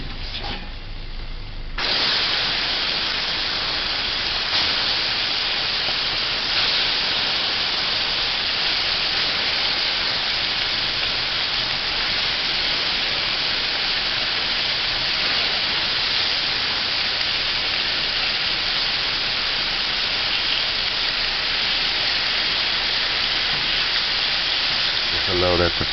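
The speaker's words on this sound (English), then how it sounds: "Allow that to fry on one side for about a minute" Chicken backs fry in curry-flavored oil on a stovetop, giving a loud, steady sizzle that starts abruptly and holds evenly for the whole stretch, with no voices over it.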